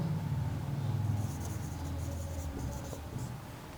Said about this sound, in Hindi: इसी प्रकार एक और लिख देता हूँ